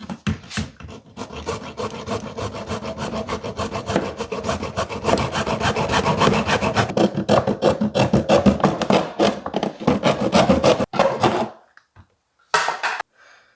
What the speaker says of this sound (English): It is a hacksaw. It should work just fine, but not the ideal thing because it takes some time to do it, but it'll cut through plastic just fine.